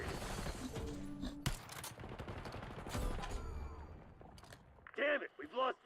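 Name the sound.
gunfire in the video game Call of Duty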